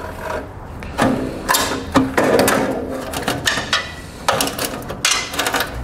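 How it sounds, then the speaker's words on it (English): Tin snips trim a metal heat shield on a 2020 Chrysler Pacifica during a trailer hitch install: a close series of sharp, crunchy cuts and rattling clanks that come in irregular bursts. "we'll simply take a pair of tin snips and we'll just cut that section out"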